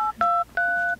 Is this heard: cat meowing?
no